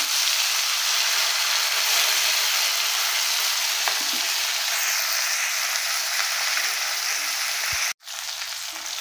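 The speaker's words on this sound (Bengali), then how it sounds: "তো বন্ধুরা, মাছগুলো ভাজা হয়ে গেছে, তো এগুলো উঠিয়ে নিচ্ছি।" Fish fries lightly in a pan with an even, close, continuous sizzling hiss that ends in a sudden clunk, with no talking.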